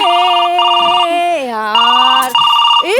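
A telephone rings with a steady electronic tone in repeated bursts, loud and close, during a Marathi stage comedy sketch, with a brief break between rings.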